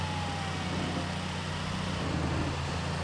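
Truck driving in GTA IV, a steady low diesel engine drone with constant broadband road rumble, even and unbroken for about three seconds, with no talk.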